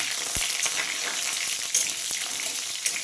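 Raw mango pieces frying in hot oil with a mustard seed and dried red chilli tempering, a steady close sizzle with a few faint stirring taps throughout, no voices.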